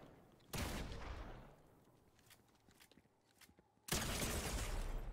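Gunshots in Fortnite: two loud bursts of gunfire, the first decaying over about a second, then quieter scuffing and shuffling, then a second sharp shot that rings on to the end.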